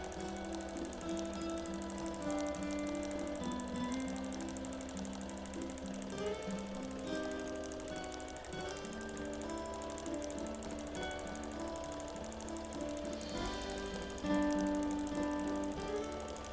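A quilting sewing machine runs steadily at about 750 stitches per minute, its motor humming smoothly with a continuous rhythmic stitching drone throughout, no speech.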